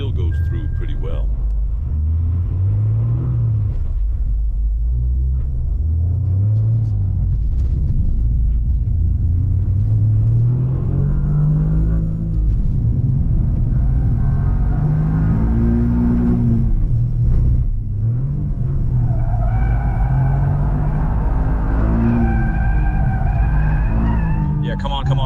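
A Toyota Yaris GR rally car, with a driver at the wheel, drives hard and brakes, its engine note rising and falling over and over through gear changes with a loud close cabin rumble, while a voice talks throughout.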